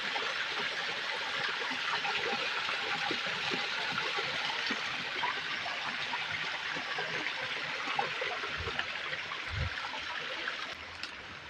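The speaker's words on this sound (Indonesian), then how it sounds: "Ini sebenarnya ini itu kali kecil, sungai kecil ini, akan tetapi batunya itu besar banget" A small stream flowing over big rocks in a forest, a steady broad rushing and trickling of water that continues without a break, close and even in level, with no voices.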